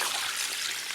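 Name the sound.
water poured into pot of chicken heads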